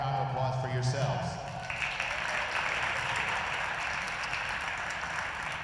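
Audience at a live spring festival event breaks into sustained applause that swells after a brief spoken moment and continues steadily as a dense, even wash of clapping.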